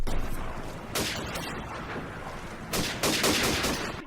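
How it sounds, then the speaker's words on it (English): Sniper rifle shots in Call of Duty 4 gameplay crack out in several sharp bursts, loud and close, with in-game rumbling between the shots. "Snipers everywhere? Snipers have infested my favorite Call of Duty game."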